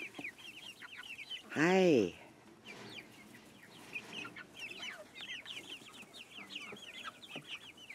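Backyard chickens, including a hen near the front, cluck in a steady low chatter throughout. A person briefly greets them early on, and the clucking continues at a moderate distance.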